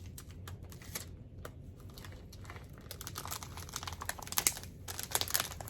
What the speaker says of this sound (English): Put a big long piece of tape on